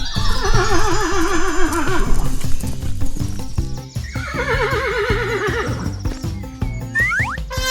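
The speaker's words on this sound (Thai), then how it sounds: "ม้าวิ่งเร็ว" A horse gives two loud, quavering neighs, with clip-clopping hooves running underneath, all set over continuous upbeat background music.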